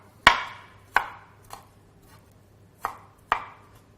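Knife chopping zucchini on a cutting board: five sharp, separate knocks at an uneven pace, close and clear in a quiet room.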